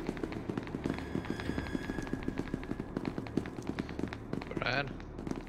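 Rapid gunfire in the SCP: Secret Laboratory video game, a dense run of sharp repeated shots rattling on at mid distance beneath game noise and voices.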